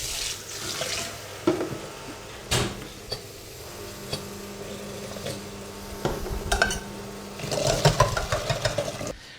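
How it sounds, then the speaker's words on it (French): A mixing bowl is washed at a kitchen sink, with running tap water splashing steadily, interrupted by clinks and knocks of the bowl against the basin and a busier burst of scrubbing and rattling near the end. "moi je vais laver la bassine"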